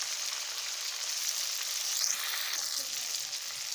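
Onions fry in a pan with green chilies, tomatoes and red chili powder, giving a steady, close sizzle that runs throughout with no talking.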